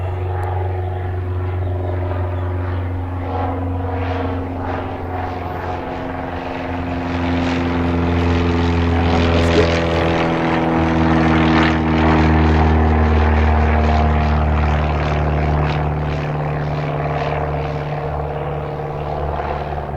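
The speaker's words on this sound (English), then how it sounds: "Oh, there's another plane." A propeller airplane drones overhead at Gene Autry Park orange grove in Mesa, Arizona, a steady engine hum that swells louder midway and slowly fades, with no voices.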